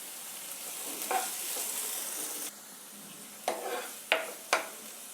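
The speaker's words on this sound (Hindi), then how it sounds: "और इन्हें अच्छी तरह से हम भुनेंगे" Chopped onion and tomato roasting in a pan for peanut corn chaat, a soft low sizzle with a few sharp scraping stirs of a spoon toward the end, near and fairly quiet.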